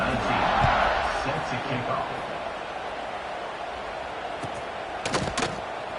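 A football stadium crowd buzzes after a score, a broad roar that swells early then settles into steady murmur, with a few sharp bangs near the end.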